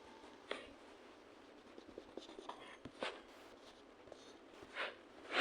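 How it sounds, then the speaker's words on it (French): A pen scratches across paper in short, irregular strokes with small taps and pauses, quiet and close, while someone sketches a creature from a Roblox SCP game. "Attendez, j'essaie de le dessiner."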